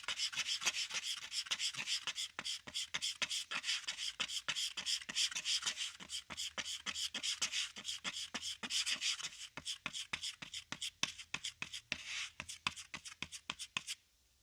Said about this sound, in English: Mix it up real good with a little Bondo spreader until it's all one color.